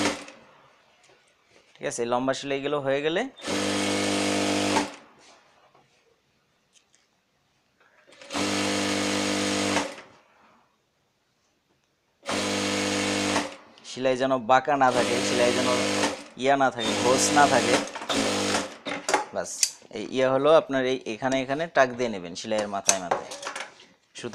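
A sewing machine stitches a petticoat in several loud, close bursts of rapid whirring separated by pauses, while someone talks in between and over the later runs.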